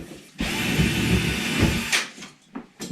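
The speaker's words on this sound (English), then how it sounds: "Do we want to try to put some screws here and see if that does?" A power drill driving screws into a bench, a close, loud whirring burst lasting about a second and a half, then trailing off into knocks and handling clatter.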